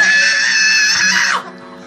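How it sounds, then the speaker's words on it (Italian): Band members being interviewed on a radio show let out a single loud, sustained scream on request, lasting over a second before cutting off sharply into a quieter background. "Fateci un urlo."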